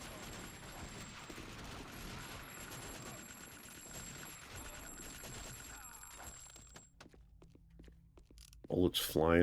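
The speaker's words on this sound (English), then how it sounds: "Bullets flying everywhere" Rapid gunfire and clattering mechanical shots from the video game Dead to Rights run steadily for about six seconds at moderate level, thinning out before a brief voice at the end.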